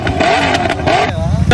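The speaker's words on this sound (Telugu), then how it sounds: "ఇది ఎక్సిలేటర్ ఇస్తుంటేనే ఇంజిన్ వైబ్రేషన్ తో బైక్ ఊగిపోతుంది." A motorcycle engine revs hard with heavy vibration, a loud, close throbbing growl that rises and falls over a second and a half, with a voice talking over it.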